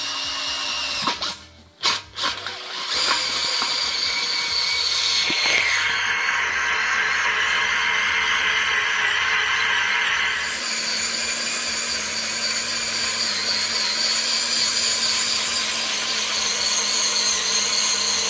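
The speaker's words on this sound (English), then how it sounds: "Now we're going to start drilling the holes around the fire pit. We're using a 3/4 hole saw." A drill grinds through a recycled steel tank with an oiled 3/4 inch hole saw, starting with a few choppy bursts and then settling into a long, steady, close whirring cut.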